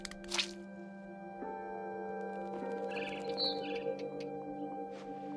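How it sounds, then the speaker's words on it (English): Birds chirp in the video game What Remains of Edith Finch: a few faint, brief tweets over a steady low ambient hum and soft in-game sounds. "I hear a bird."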